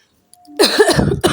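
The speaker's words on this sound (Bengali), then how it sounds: "কাশি হচ্ছে" A woman coughs twice close to the mic, a harsh raspy burst followed after a short pause by a second one, loud against near silence.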